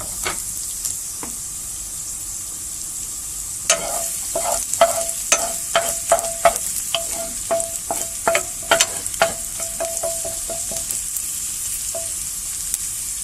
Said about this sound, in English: So you just cook until the egg is no longer running.